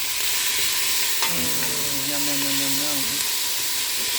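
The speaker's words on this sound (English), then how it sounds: "these have to saute until they're kind of glassy" Vegetables sauteing in a pot as the base for chicken soup with Cornish hen, giving a steady close sizzle and hiss throughout, with a brief metallic stir sound partway through and a faint tonal ring over it.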